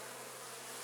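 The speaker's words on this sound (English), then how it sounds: "However, there are also still bees up here" Steady, close buzzing of bees, a continuous droning hum without pauses.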